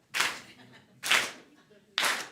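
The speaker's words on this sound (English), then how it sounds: "And we clap." A church congregation claps together in unison, three sharp group claps spaced roughly a second apart, each with a short ringing tail in the room.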